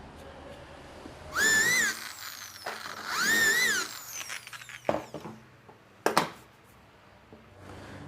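A power drill bores holes into a wooden sofa frame, whining in two rising and falling bursts of a few seconds each, then sharper clicks and knocks as the bit catches and stops, with no talking over it.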